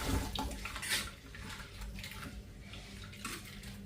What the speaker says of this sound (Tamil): இப்போ இந்த உளுந்தையும் நாங்கள் ஒரு 4-5 தண்ணியில் நல்ல வடிவாக கழுவி எடுப்போம்